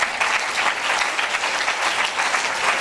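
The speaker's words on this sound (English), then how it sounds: "I think DCP deserve a round of applause for that." Loud, dense audience applause at a launch event held at the Nigerian space agency headquarters in Abuja, continuous and close throughout the short stretch.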